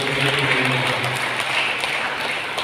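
A church congregation claps hands at a Tamil Catholic Mass, a steady patter of many hands applauding together at moderate volume throughout.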